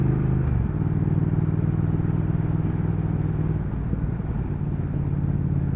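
A 2019 Triumph Speed Twin motorcycle being ridden on a wet road, its engine a steady, loud, continuous rumble with a slight pitch shift early on and no voices.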